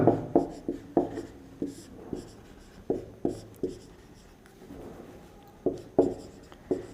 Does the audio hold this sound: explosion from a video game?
no